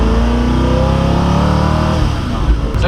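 A loud Koenigsegg Agera RS engine in track mode roars steadily at high revs, with a rising, throaty pitch as it accelerates close by, then eases slightly near the end.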